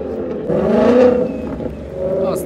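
A Ford Mustang engine revs nearby, swelling to a loud roar at its peak and then easing off into a lower steady drone.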